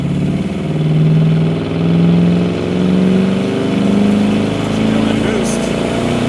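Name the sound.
1964 Studebaker Avanti supercharged car accelerating in second gear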